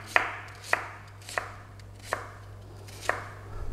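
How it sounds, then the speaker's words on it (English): Onion being sliced with a knife while prepping a stir-fried beef and ginger dish: five crisp, separate cuts at uneven intervals, close and clear over a low steady hum. "So there we have our sliced onion"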